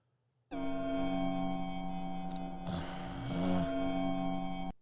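Steady, resonant humming drone from a glowing Nirnroot plant in Skyrim, a layered sustained tone holding for several seconds with a brief swell of airy shimmer midway, loud and alone without talk.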